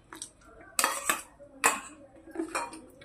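Dough with yeast is mixed in a bowl, heard as a few sharp clinks and knocks of a utensil against the bowl between softer scraping, close and alone.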